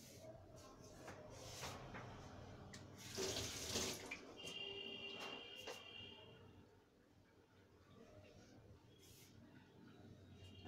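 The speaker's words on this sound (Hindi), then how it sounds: "हाथ धो लेते हैं।" Water from a running kitchen tap splashes over hands being washed while vegetable paratha is prepared; a steady, close stream with louder splashing bursts partway through and no talking.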